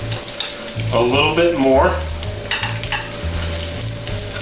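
Bacon sautés in its own rendered fat for beef bourguignon, a loud, steady sizzle with stirring scrapes right up close while someone speaks briefly over it.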